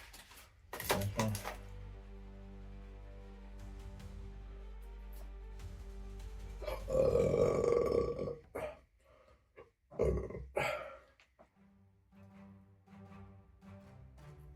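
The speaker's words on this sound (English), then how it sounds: "I feel like this video is going to be a lot of me burping" Loud, close burps from a man eating a large pile of KFC hot wings, several deep belches, a long drawn-out one around the middle followed by shorter bursts.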